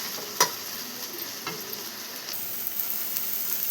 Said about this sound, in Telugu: వేసి ఇలాగా కలుపుకున్నాం.